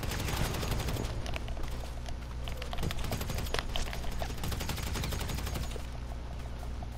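Rapid carbine rifle fire in Grand Theft Auto V, dense continuous bursts of automatic gunshots rattling across the whole stretch with steady loudness, close and punchy, no pauses and no voices.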